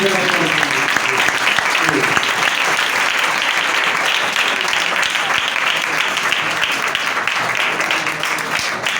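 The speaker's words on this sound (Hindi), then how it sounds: "हम जोर से तालियां मारते हैं" A crowd at a church gathering gives loud, sustained applause that holds dense and steady for the whole stretch and thins only slightly at the end.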